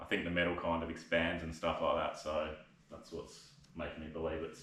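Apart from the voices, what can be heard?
No everyday noise stands out behind the speech.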